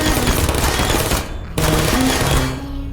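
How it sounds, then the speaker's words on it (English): Automated turrets in the video game Portal fire a dense, continuous hail of rapid gunfire, loud and close, with a brief gap midway before the barrage resumes. "I've never heard so many bullets being shot at me ever in a game before"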